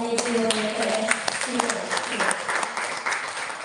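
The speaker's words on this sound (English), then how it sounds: "please give big applause once again for our national speaker." Audience applause for a national speaker at a formal academic event, steady clapping throughout with a few louder claps standing out, while voices murmur underneath.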